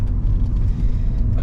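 A Rover 200 BRM car drives along a road with a steady low engine and road rumble heard from inside the cabin, continuous and fairly loud, with no talking.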